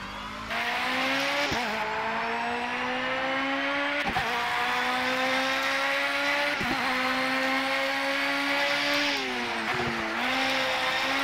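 BMW M3 GT race car in Project CARS at Hockenheimring, engine screaming at high revs with sharp upshifts and brief lifts every few seconds, steady and close, with faint tire noise underneath.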